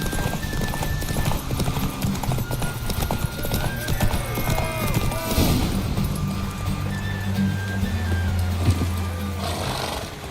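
Horse hooves clip-clop rapidly at a gallop during a horse race in The Witcher 3, loud and close, with whinnies and snorts over a steady rhythmic drumming of hoofbeats.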